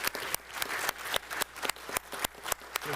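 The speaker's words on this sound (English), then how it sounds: "Let's give them all a big round of applause." A few hands clap in slow, steady rhythm at a city commission budget meeting, each clap sharp and close over a constant room hum, with no voices heard.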